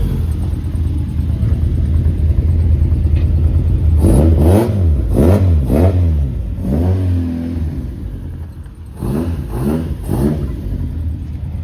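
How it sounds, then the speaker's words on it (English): A Ford Focus ST170 running motorbike carburettors and tuned to about 180 horsepower, revving hard in a few close, loud bursts of rising and falling engine pitch over a steady idle rumble. "it's a Focus ST170 with motorbike carbs, with a really nice tune, just about 180 horsepower"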